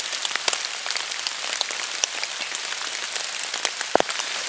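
Steady rain patters through a forest canopy, a dense hiss of drops with scattered sharper plinks and a few louder splats, continuous and close throughout.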